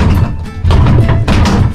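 Heavy, muffled thuds land in quick succession, close and loud, like blows striking a padded bag.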